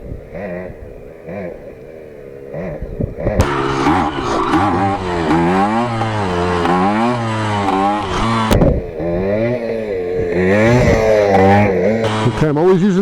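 A Kawasaki KE100 motorcycle engine takes short throttle blips, its tone rising and falling in quick wavering surges over a steady idle, loud and close.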